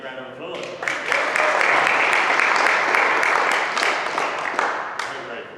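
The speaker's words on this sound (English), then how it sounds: "A big round of applause." A live audience at a magic show gives a big round of applause, loud and dense clapping that swells quickly and holds steady for several seconds before tapering, with a few distinct claps standing out near the end.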